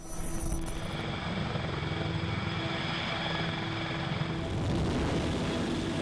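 A US Marines CH-53 heavy-lift helicopter running close and loud, its rotor chop and turbine roar steady and dense throughout, with a slight swell near the end.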